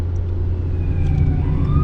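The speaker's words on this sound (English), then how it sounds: "You can hear the constant sirens of the ambulance services, the firefighters as well, and the police." Sirens of ambulances, fire engines and police wail faintly in the distance outside Brussels airport over a heavy, constant rumble of traffic and engine noise.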